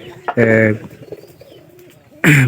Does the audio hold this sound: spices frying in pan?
no